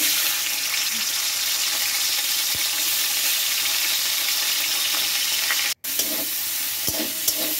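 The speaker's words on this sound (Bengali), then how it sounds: "সাদা তেলের মধ্যে আমি এই ফুলকপিগুলো কিছু কাটা ছিল, সেই ফুলকপিগুলো ভালোভাবে ভেজে নেব" Cut cauliflower fries in white oil with a dense, continuous, close sizzle and occasional stirring, briefly cutting out for a moment near the end before resuming.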